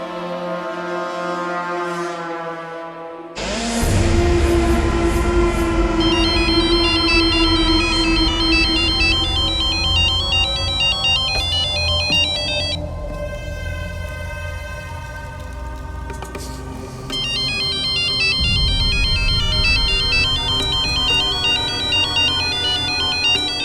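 A bright electronic phone ringtone plays a repeating melody for a long stretch, loud and clear, with no talking.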